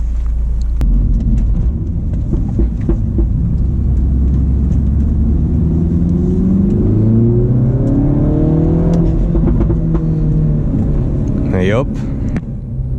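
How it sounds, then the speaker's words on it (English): A modified manual Mini Cooper S with an AWE carbon fiber intake and JCW Pro Tuning Kit, its engine revving and rising in pitch, loud and close, with a steady rumble underneath. "AWE carbon fiber intake, and it sounds absolutely awesome"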